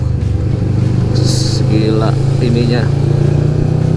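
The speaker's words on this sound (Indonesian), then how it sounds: "Ini suara udah diganti nih sama knalpot aftermarket." A 650 cc Kawasaki Vulcan S motorcycle fitted with an aftermarket exhaust runs close by with a steady, deep, throbbing engine drone while someone talks over it.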